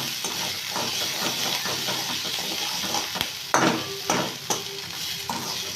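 Pieces of fish are mixed with salt and turmeric while a constant hiss, like sizzling, fills the background. Close stirring scrapes and a couple of sharper knocks come through near the end.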